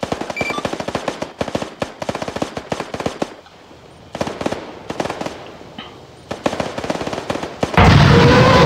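Rapid machine gun bursts fire in the ArmA 3 video game during a battle for a town in Normandy, with dense rattling volleys, short pauses and echoing cracks, ending in a burst of loud noise.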